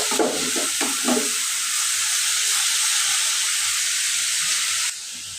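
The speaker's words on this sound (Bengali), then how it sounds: "করলা ভাজিটা আমি নেড়ে অন্য সেলাই দিয়ে দিব" Bitter gourd stir-frying in a pan at home gives a steady loud sizzle and hiss throughout, with a few scraping stirs of a utensil near the start, before the sound drops off abruptly near the end.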